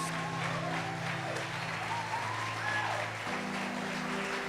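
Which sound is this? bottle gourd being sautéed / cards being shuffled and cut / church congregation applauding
church congregation applauding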